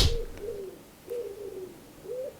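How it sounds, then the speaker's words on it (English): Soft, hooting calls of a bird near a park, three drawn-out coos spaced about a second apart, moderately close and alone with no talk. "Is that an owl?"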